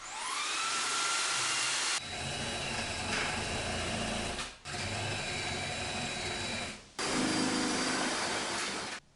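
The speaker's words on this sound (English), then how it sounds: "and drive the leg screw." A power drill drives a leg screw into a wooden shelf support on overhead shelves built on vertical joists, whirring loud and close in three long bursts with short pauses between them.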